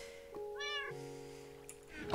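A cat meows close by, a drawn-out rising-and-falling call followed by a softer short mew near the end, with a quiet background hum.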